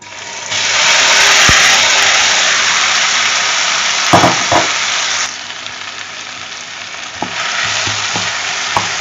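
Okra (lady's finger) dropped into hot oil in a pan for a crispy fry, bursting into a loud, dense sizzle that gradually eases, with a few spatula knocks against the pan; no voices.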